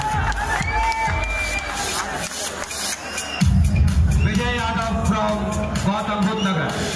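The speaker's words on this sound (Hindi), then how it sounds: "जोरदार तालियां" A crowd at a competition prize announcement cheers and makes noise for the first-place winner. The sound is loud, mixed with many overlapping voices, and grows fuller and busier partway through.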